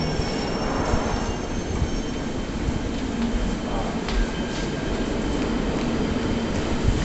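London Underground Victoria Line train arriving at the platform, a loud continuous rumble and roar of wheels with faint squeals, heard close in the station with voices talking underneath.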